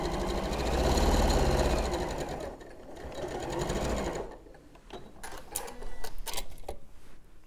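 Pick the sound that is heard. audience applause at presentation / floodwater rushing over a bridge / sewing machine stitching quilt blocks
sewing machine stitching quilt blocks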